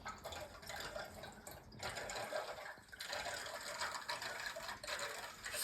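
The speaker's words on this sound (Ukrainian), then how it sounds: "Як я включаю, вода біжить." Indoor tap running into a sink at home, a faint, steady rushing and splashing of water with small gurgles and clinks, continuous for the whole stretch with brief dips.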